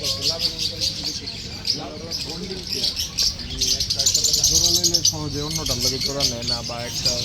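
Birds in a bird shop at an Iranian market in Qatar chirp and tweet steadily at close range, with soft cooing mixed in and people talking over them.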